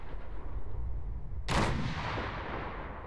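A single heavy explosive blast of artillery fire in the video game Fallout 4 booms out over a steady low rumble of battle and then trails off in a long rolling decay, with no voices.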